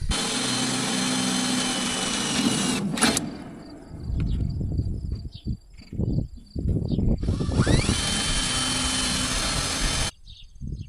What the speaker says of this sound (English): I'm going to drill the holes on the one side and set all those